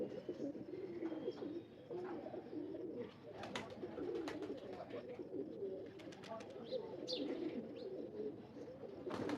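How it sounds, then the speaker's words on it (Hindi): A large black-faced Imamdin pigeon coos in low, repeated murmurs over a busy background of noise, voices and scattered sharp clicks. "बहुत बड़ा कबूतर है ये, अमाम दिन काले मुंह वाला कबूतर ये"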